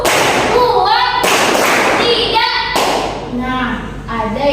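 Children in a classroom clap their hands in a counting clapping game, sharp loud claps in short bursts separated by a teacher's talking.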